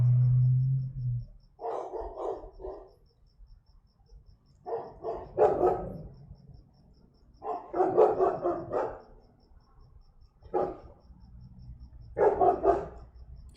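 A dog barks in repeated clusters of several quick barks, separated by short pauses, at moderate distance with no voices over it.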